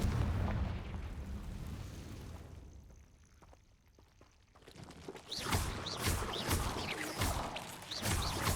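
A Confringo blasting spell explodes in Hogwarts Legacy, a loud roaring burst that rumbles and fades, a quieter gap, then a fresh crackling boom with scattered bangs and debris.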